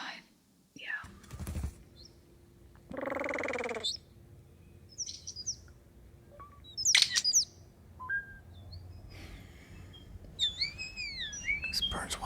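A songbird chirps and calls in bursts of varied, electronic-sounding whistles, warbles and sweeping beeps like a droid, fairly close, with breathy noises and a whisper-like hush in between.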